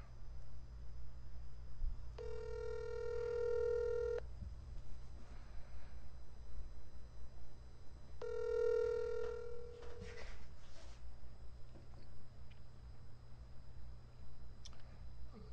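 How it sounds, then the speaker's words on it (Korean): Telephone ringback tone heard twice as two long, identical electronic ring bursts a few seconds apart, followed by faint clicks and light room noise. "전화해볼게요"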